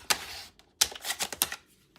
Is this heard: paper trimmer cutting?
yes